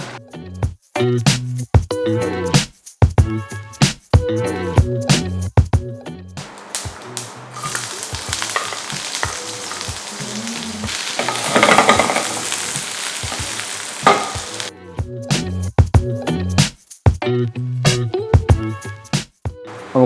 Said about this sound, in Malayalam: വെന്ത് വരുമ്പോഴത്തേക്കും നമുക്ക് ഇതിലേക്ക് വേണ്ടുന്ന താളിപ്പ് തയ്യാറാക്കാം